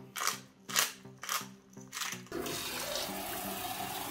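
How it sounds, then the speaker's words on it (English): Water pours into bean soup in an Instant Pot, beginning as several separate splashing gushes and then settling into one steady, faint stream. "we're adding about 2 liters of water to the mixture."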